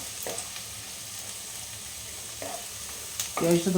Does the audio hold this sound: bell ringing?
no